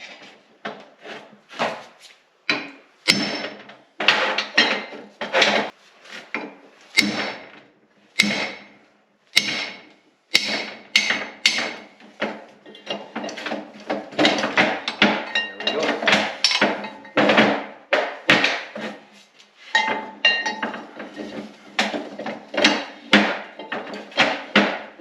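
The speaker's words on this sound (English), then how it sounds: "I might need a little bit bigger hammer" Repeated hammer blows on the gearcase shaft of a Letourneau Tournapull D during a rebuild, a long run of sharp, close metallic knocks at an uneven rhythm with brief pauses between bursts.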